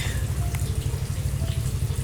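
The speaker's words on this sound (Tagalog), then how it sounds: "dagan natin ang tubig" Water runs steadily from a tap in a continuous close rush, loud and unbroken, with no talking.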